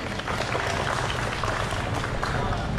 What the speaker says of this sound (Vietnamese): Xin tất cả quý vị dành một tràng pháo tay hoan nghênh.